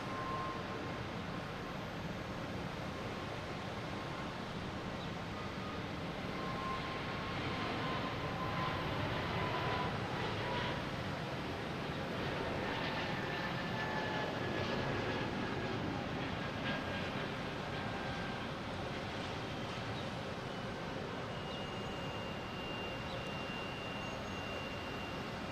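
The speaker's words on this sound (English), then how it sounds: "we have JetBlue heading to Raleigh," A JetBlue airliner departs Boston Logan bound for Raleigh-Durham, its jet engines giving a broad, steady roar that swells slightly mid-way and holds at a moderate distance with no talk over it.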